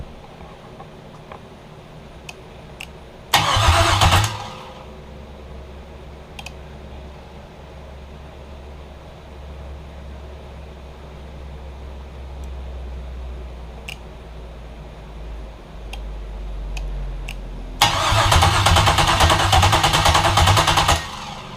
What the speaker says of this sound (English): we're going to go ahead and crank it over a couple times and just get some oil flowing